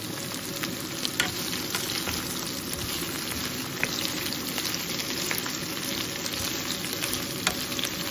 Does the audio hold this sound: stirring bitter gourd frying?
yes